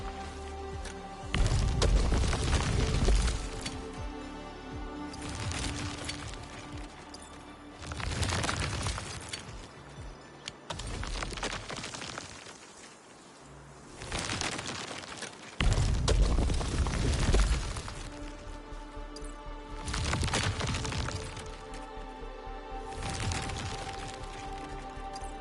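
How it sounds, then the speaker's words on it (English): Originium ore being shredded to powder by a crushing unit in Arknights: Endfield, heard as repeated heavy grinding bursts with deep booms and crackling debris, rising and falling in several loud waves with quieter gaps between them. "I say it's time to shred some Originium ore to powder"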